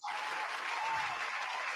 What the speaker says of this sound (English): Round of applause to you for that, bro.